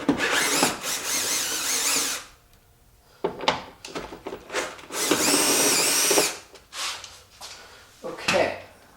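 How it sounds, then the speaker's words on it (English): A cordless drill runs in several bursts, loud and close, as it spins out 10 mm bolts on the front trunk of a 2022 Tesla Model 3, with short quiet gaps and clicks between runs. "I'm going to go ahead and do it with my drill on this one."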